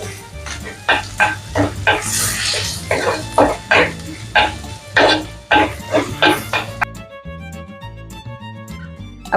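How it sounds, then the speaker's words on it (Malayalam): Curry leaves crackle and sizzle in hot oil in a pan while squid roast is cooked, Kerala toddy-shop style, giving a run of sharp spitting pops over a steady frying hiss, close and fairly loud, ending in a quieter tail. "അപ്പൊ ദേ ഒന്ന് മൂത്ത് വരുമ്പോഴേക്കും നമ്മൾ ഇത്തിരി വേപ്പിലയും കൂടി ആഡ് ചെയ്യുന്നുണ്ട് ടൈലേക്ക്."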